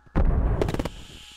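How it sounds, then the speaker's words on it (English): The landing airbag on a Mercury capsule fires in the spaceflight simulator Reentry after splashdown, a sudden loud booming burst followed by a quick cluster of sharp thumps that fade out. "That's the sound of the little airbag firing."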